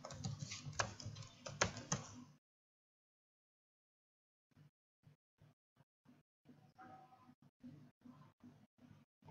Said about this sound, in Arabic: نكتب فيها الكود بتاعنا.